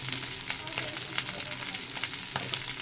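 Ginger-garlic paste with salt, turmeric and a little chili powder sizzles in a frying pan, with steady crackling broken by frequent scraping ticks from a spoon.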